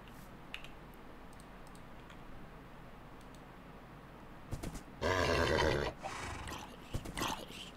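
A horse in a video game whinnies in one loud, strained burst midway, surrounded by faint ambient game noise and sparse keyboard clicks before and after.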